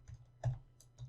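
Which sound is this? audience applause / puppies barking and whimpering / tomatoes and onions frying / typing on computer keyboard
typing on computer keyboard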